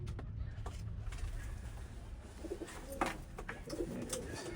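Pigeons in a breeding loft with nesting hens and eggs coo softly in low, murmuring bursts, with a few light rustles and faint background noise.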